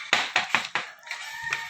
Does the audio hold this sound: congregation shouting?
no